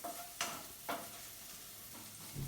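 Onion sautéing in a pan, a faint, low sizzle with a few brief stirring scrapes spaced apart, quiet and close, no talking.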